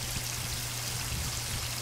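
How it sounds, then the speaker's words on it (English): Garden hose left running outdoors beside a netted wasp and yellow jacket ground nest, giving a steady, continuous splashing trickle of water with no break and no talk. "I've got my hose of water running."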